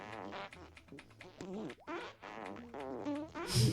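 Repeated fart noises in a comedic party game, a rapid run of short, buzzy, pitch-wavering blasts packed close together and fairly loud, with a harsher burst at the end and no one talking.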